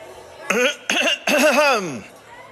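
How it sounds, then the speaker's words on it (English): A person clears their throat three times in quick, gruff bursts, the last one longest, close and loud. "rising to his feet and clearing his throat obnoxiously"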